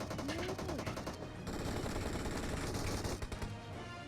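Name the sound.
gunfire in a video game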